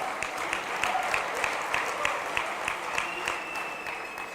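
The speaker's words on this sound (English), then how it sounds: "You can clap." A leadership summit audience breaks into sustained applause after a governor's pledge of support for Israel, a dense steady wash of clapping filling the hall, with a faint voice beneath it.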